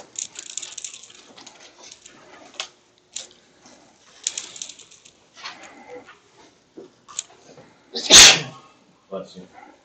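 A single loud, sharp sneeze bursts out in a classroom amid scattered talking, standing clearly above the voices.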